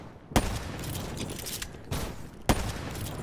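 Loud shotgun blasts ring out in Call of Duty: Black Ops III, three sharp booms spaced unevenly over a steady bed of battle noise.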